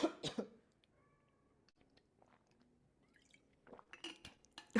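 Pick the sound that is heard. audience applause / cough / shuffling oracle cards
cough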